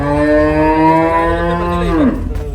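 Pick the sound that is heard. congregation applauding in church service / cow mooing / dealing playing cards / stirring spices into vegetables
cow mooing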